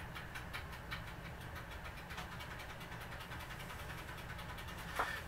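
Clockwork timer mechanism of a 1936 General Electric 600 toaster running, a faint steady ticking whir throughout, ending in a brief louder click.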